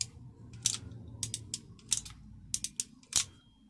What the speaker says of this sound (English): Some German ratcheting crimpers.